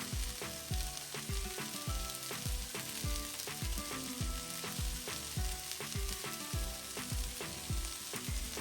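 Okra and potatoes fry in a pan as chickpea flour (besan) is added, giving a dense, continuous sizzle with rhythmic scraping and stirring strokes repeating steadily, close and fairly loud, with no talk.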